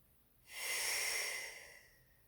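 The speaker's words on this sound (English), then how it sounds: "pulling down with my rib cage and breathing laterally" A single deep lateral breath taken during Pilates, an airy rushing exhale that swells in about half a second and fades slowly, close and soft in a quiet room.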